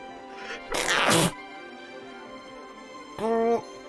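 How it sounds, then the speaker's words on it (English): A single person's sneeze during a city-building game session: a sharp, loud burst near the mic, followed by a quiet stretch and a brief voiced grunt or vocal sound near the end. "Sorry, I tried to stop that sneeze getting on."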